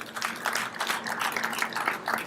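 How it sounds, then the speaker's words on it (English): An audience at a state of the commonwealth address gives a round of applause, a steady patter of many hands clapping at moderate volume across the whole moment, heard from within the hall. "And I think we can give him a round of applause"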